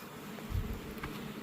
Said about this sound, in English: That one is really full of bees.